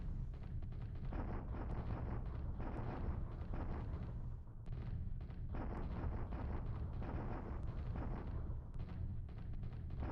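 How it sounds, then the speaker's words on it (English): Japanese artillery fire in the wargame War in the Pacific Admiral's Edition sounds as a dense, continuous barrage of rumbling blasts that overlap for the whole stretch, loud and unbroken, with no voices. "Japanese artillery definitely doing its job."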